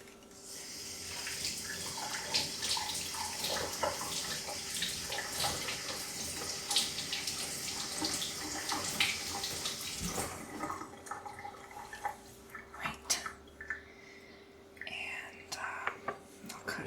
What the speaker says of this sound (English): I'm just going to pull out a tomato and wash it.